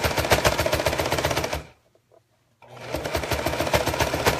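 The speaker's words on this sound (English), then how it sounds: "you can hear my machine doesn't love this many layers, because now I've got 4 layers of fabric and the batting" A sewing machine stitches through four layers of fabric plus quilt batting with a loud, rapid, steady mechanical chatter that drops out for about a second before resuming at the same hard pace.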